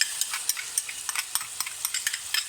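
Ginger, garlic and onion paste fries with lamb in a pot, a bright continuous sizzle punctuated by rhythmic, close stirring taps and scrapes from a spoon, alone with no voices.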